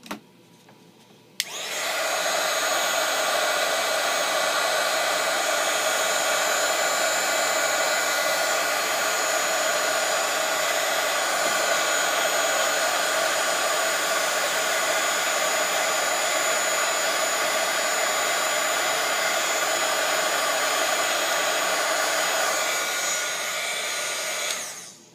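A hair dryer drying paint on a decorated Easter egg, switched on after a short pause and blowing as a loud, steady whooshing hum for over twenty seconds before cutting off.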